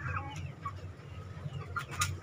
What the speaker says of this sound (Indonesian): Bagaimana dengan ayam-ayam yang dalam masa remaja?